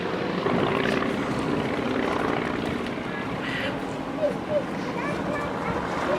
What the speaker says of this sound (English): 4 airplanes flying as one. A very impressive tight formation for these old airplanes.